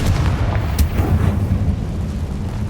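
A Confringo blasting spell goes off in Hogwarts Legacy: a loud, sustained rumbling blast with a sharper burst partway through, rolling on steadily without pause.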